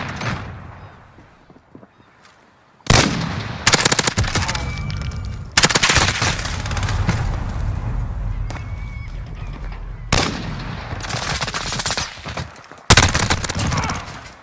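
Bursts of automatic gunfire in Call of Duty Modern Warfare, loud and dense, arriving in several long volleys with brief gaps between them.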